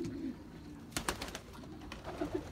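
Young pigeons coo softly in a loft, with a low coo at the start and more near the end, mixed with a few sharp clicks and flutters close by, no talking.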